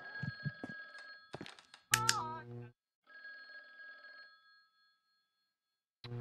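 A telephone rings in the video game The Guest, sounding in repeated bell-like bursts with gaps between them, preceded by brief voice sounds.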